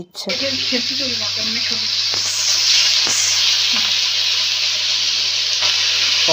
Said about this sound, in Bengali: এখানে দেখো এক এক করে পুরো মাটনটাই কড়াইতে দিয়ে